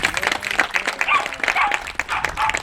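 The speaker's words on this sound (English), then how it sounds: "Can we please give him a round of applause, please?" Outdoor crowd claps for a community member at a water system rebuild groundbreaking ceremony in Rio Dell, California, uneven loud applause with scattered cheers and brief voices mixed in.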